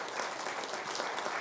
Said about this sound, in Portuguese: Será que podemos aplaudir o Senhor Jesus?